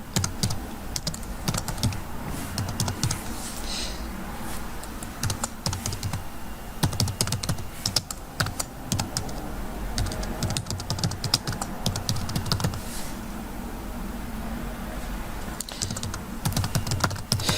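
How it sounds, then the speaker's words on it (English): Rapid, steady typing on a computer keyboard while a contact is entered in Outlook, with dense close key clicks continuing without a break throughout. "I would type it in her name."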